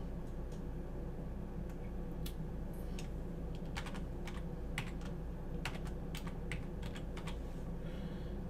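Quiet, rapid clicks of a computer keyboard as a username is typed in an office setting, a soft irregular patter of keystrokes over steady low background hum.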